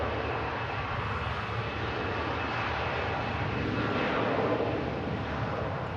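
Aircraft taxiing at an airport, a steady distant jet engine roar with a broad even rumble and no break, heard from afar without voices.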